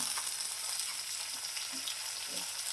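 Boiled dry papdi beans hitting hot oil in a frying pan give a steady, close sizzle with faint soft stirring knocks, and no voices.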